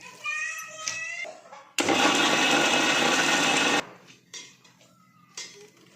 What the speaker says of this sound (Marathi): तर आता आपण हे मिक्सरला बारीक करून घेऊ